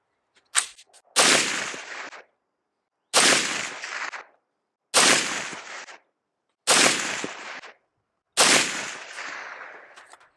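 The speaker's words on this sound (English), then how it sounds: "Right now we have supers. We're going to shoot those and then shoot subs" Five unsuppressed supersonic 300 Blackout rifle shots, sharp loud cracks spaced about two seconds apart, each with a short echoing tail, preceded by a faint click.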